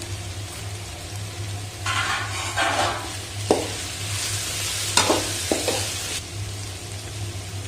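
Small-cut carrots sauté with vegetables in a pan. A spoon scrapes and stirs in several bursts, with sharp knocks against the pan, over a constant sizzle and a low hum.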